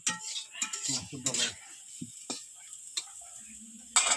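Cooking on a clay stove in a home kitchen, with curry, dal and rice being made: scattered metallic clinks and scrapes of utensils against pots, light stirring and a faint sizzle, with sharp taps between quieter stretches.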